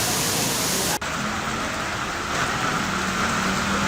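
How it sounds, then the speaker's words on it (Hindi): Torrential rain pours down over a city, a dense, constant roar of falling water that fills the scene without pause, with a brief cut near the start and a faint steady tone underneath. "शहर में आज हुई मूसलाधार बारिश ने जनजीवन को पूरी तरह प्रभावित कर दिया"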